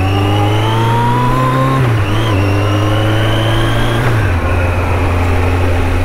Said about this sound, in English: Oh, God, look at the traffic.